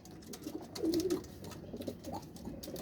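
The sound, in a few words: Ferozpuri pigeons cooing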